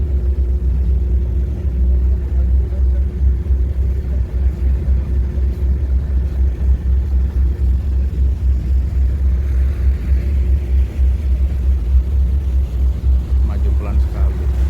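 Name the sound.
ferry KMP Portlink V engine maneuvering slowly at dock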